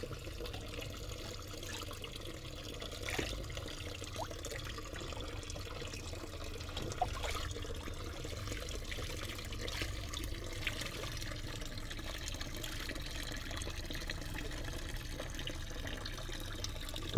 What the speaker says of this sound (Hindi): मैं ये यही वाला पॉन्ड का पानी ही यूज़ करता हूँ पानी डालने के लिए पौधों में अपने